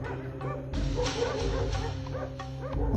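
Several dogs bark and yip at a hyena in close, loud, overlapping bursts, with a whimpering edge to some calls and no pause across the three seconds.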